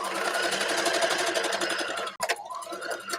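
A sewing machine runs steadily and fast, back stitching along the bottom of a dress, with a brief pause and restart near the end.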